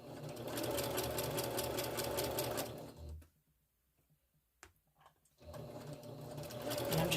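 A sewing machine fitted with a walking foot stitches a quarter-inch seam on a Japanese rice bag, running in a steady loud whir, pausing briefly in near silence, then starting up again and continuing.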